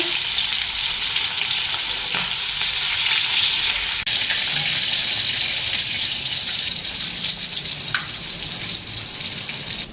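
Chicken fries in a pan with curry leaves nearby, a loud continuous hissing sizzle heard up close, with occasional stirring scrapes and a sharp tap partway through.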